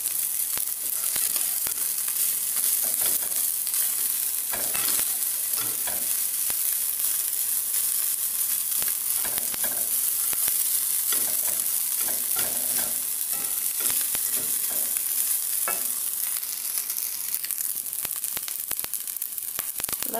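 Simple meatless fried rice with dilis and eggs fries in a pan and is stirred steadily, giving a constant close sizzle broken by repeated scraping and stirring strokes, with no voices over it.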